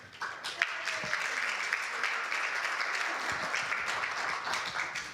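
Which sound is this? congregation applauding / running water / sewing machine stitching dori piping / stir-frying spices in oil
congregation applauding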